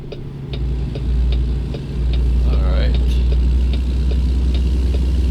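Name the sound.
truck engine over-revving in a truck simulator video game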